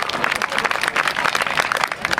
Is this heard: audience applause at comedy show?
yes